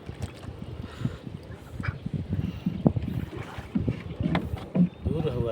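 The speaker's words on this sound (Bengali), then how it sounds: "নৌকা বাইলে কি কষ্ট লাগে নাকি?" Someone rows a wooden boat on clear water among water lilies, giving soft irregular splashes and knocks of the oar, close by, with wind buffeting the microphone and occasional voices.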